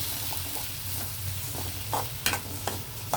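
A beaten egg stir-fried with chopped vegetables in a pan sizzles steadily up close, broken by a few scraping stirs and light clatters of the spatula, no voices.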